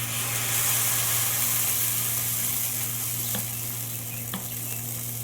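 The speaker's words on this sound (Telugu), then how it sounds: "సో ఇక్కడైతే నేను దోశ వేస్తున్నా" Dosa batter mixed with carrot sizzles on a hot pan in a continuous close hiss, with a steady hum beneath and two faint clicks late on.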